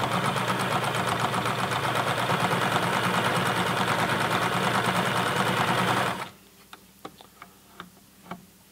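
A sewing machine stitches fleece at speed, a loud, dense mechanical whir with rapid ticking that runs steadily for about six seconds and then stops abruptly, leaving a few faint clicks.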